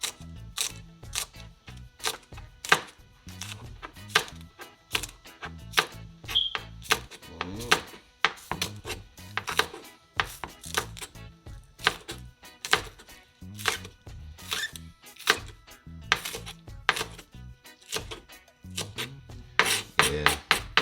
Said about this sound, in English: let's cut up the scallion and use the other knife